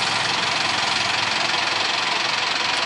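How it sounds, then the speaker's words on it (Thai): A Honda PCX motor scooter engine idles steadily and continuously nearby after a remote start, a constant buzzing drone with a faint rattle and no voices. "เดี๋ยวมาสั่งสตาร์ทที่หน่วยให้ดูนะ"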